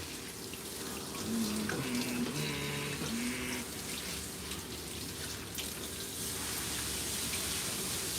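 A kitchen tap runs steadily in a plant-based cooking setting, a continuous close hiss of flowing water with a few brief tonal clinks early on and no talking.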